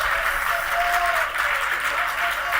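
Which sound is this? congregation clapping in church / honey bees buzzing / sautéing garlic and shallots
congregation clapping in church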